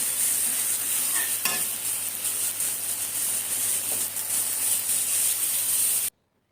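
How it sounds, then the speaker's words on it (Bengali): Meat curry being sautéed in a pan on the stove, a steady sizzle and hiss with occasional stirring scrapes, close and continuous until it stops abruptly. "কষিয়ে নিচ্ছি তরকারিটা।"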